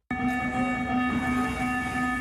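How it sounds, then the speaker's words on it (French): Lyon metro line B train running on the new test extension to Saint-Genis-Laval, a steady loud hum with tonal whine throughout, heard from on board without talk. "le métro est maintenant sur les rails, mais un peu moins rapide, il est toujours en phase d'essai"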